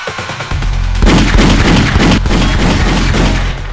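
A rapid volley of loud gunshots and booming blasts in Garry's Mod, dense and continuous after a short quiet start, with a synthetic, game-like punch.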